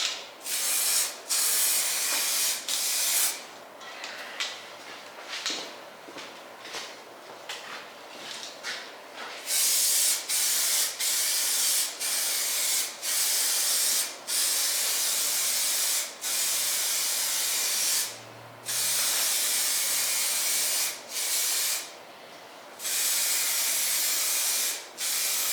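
Bursts of aerosol spray laid down as a coat around a Nissan S13 windshield frame, loud close hissing blasts of a few seconds each, separated by short pauses, some spurts brief and choppy.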